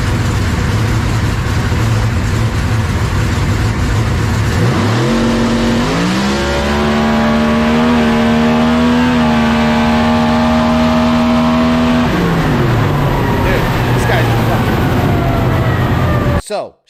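A Pro Mod drag racing car roars loudly at full throttle, its engine pitch climbing and holding through gear shifts before dropping away, with a crowd and commentary faintly beneath.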